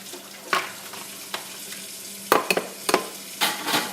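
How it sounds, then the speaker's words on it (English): Eggs being whisked together in a bowl for carrot cake batter, heard as irregular clustered bursts of scraping and clinking strokes, close and fairly loud, with quieter gaps between them. "whisk them together"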